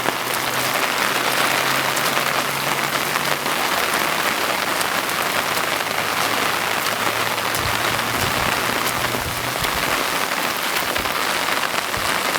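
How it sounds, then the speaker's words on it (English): Heavy tropical cyclone rain pours down steadily, a dense, continuous hiss of drops striking surfaces, loud and unbroken throughout with a faint low hum underneath. "Bloody good rain."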